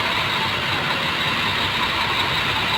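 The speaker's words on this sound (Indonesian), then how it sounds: "Oke, bus Tronton sudah start." A Tronton long-chassis bus idles after starting, its engine giving a loud, steady, close rumble with a constant broadband roar and no pauses, and no talk over it.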